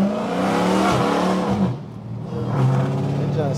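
A car slides with engine revving and a whirring, squealing tire sound, loud and close, easing off briefly in the middle before surging again.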